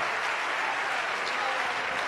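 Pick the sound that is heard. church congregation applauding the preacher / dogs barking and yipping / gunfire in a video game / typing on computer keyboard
church congregation applauding the preacher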